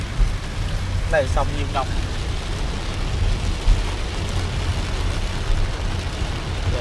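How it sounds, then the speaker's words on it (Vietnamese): Heavy rain on Phu Quoc Island, Vietnam, hisses as a steady, loud broadband wash for the whole stretch, with a brief voice speaking under the downpour. "Giờ mưa lớn thế thế này không?"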